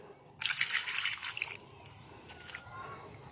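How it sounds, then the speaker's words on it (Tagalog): Carried water poured onto a dry rose plant, a brief close splash and trickle lasting about a second, then a short second splash, with quiet background otherwise. "meron na po tayong daladalang tubig para madiligan na po yung ating rose"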